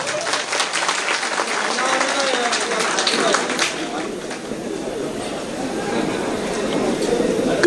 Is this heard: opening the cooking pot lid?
no